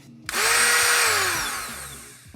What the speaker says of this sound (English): I think I can get a Dremel on this